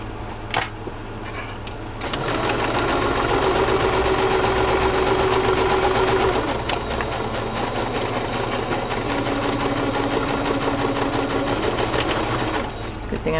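A sewing machine stitches in a rapid, steady mechanical whir after a brief quiet start, running through two long bursts with faint talk over it.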